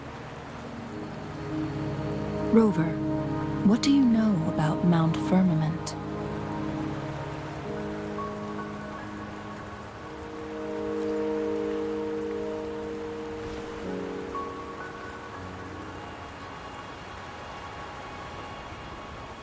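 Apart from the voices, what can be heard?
rain falling, from video game Wuthering Waves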